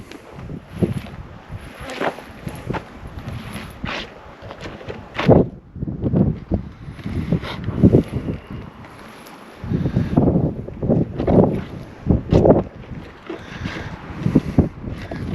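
Gusty wind blows outdoors, buffeting the microphone in loud, uneven rushes and low rumbles that swell and fade in irregular bursts.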